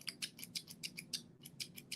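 Small squeeze scissors snip and click in a quick, steady series of about a dozen crisp metallic snaps, close and quiet.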